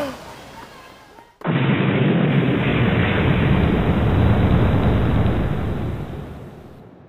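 A bomb goes off in a sudden loud blast, then a sustained roaring rumble holds steady for about five seconds before slowly fading, after brief quiet talk at the start.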